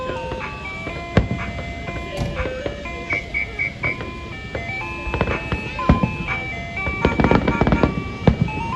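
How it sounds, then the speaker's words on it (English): An ice cream truck sits parked nearby at a Fourth of July gathering, its tinkling melody playing continuously, while firework bangs and pops go off in the background. "I don't like that truck sitting there making all that noise, though."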